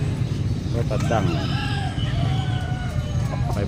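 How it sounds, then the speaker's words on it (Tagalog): A rooster crows in the background over steady noisy chatter and farmyard bustle, the call rising and falling once or twice. "Ito tandang."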